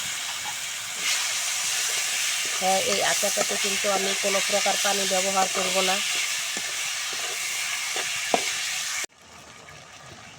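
Marinated jujube added to oil with fried garlic for a jujube pickle gives a continuous close sizzle and hiss, with a voice speaking over part of it before the sound cuts off abruptly near the end.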